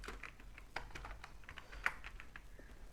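Soft, quick typing on a computer keyboard while entering data into an Excel spreadsheet, a light run of irregular clicks with a few sharper keystrokes in a quiet room.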